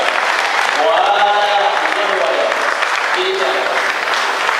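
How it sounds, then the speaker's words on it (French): Sustained audience applause fills a hall at a candidacy declaration event in Capesterre-Belle-Eau, loud and steady throughout, with voices mixed into the clapping. "je pense qu'on mérite plus d'applaudissements de ça"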